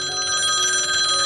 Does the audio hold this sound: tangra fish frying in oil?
no